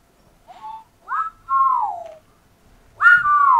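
A person whistles a few short sliding notes, close and clear, in separate phrases with pauses between them and nothing else audible.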